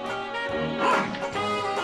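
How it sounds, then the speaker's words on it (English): A dog gives a quick run of yipping barks and whimpery woofs, close and loud, with no talking. "it's noisy and loud, and there's just plenty of barking"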